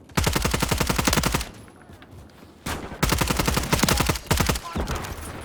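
Automatic gunfire in Call of Duty Modern Warfare 3, two long rapid bursts of evenly spaced shots separated by a short quiet gap, loud and close.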